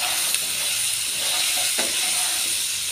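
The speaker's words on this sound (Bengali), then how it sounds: "এই সবজিগুলো একটু ভেজে নিচ্ছি" Vegetables fry with ground spices in a pan, giving a steady close sizzle and hiss with a couple of soft stirring clicks.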